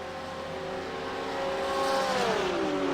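Two GT3 race cars, a BMW and a Porsche, roar along the Le Mans straight. Loud, steady engine drone builds as one car accelerates, and its pitch rises, then falls away in a Doppler sweep.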